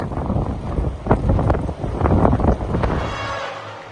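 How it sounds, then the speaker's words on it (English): Wind gusts buffet the microphone at a lakeside high school sporting event by the bay, a loud low rumble that rises and falls in uneven bursts before easing off, with no talking. "Breezy day on the bay."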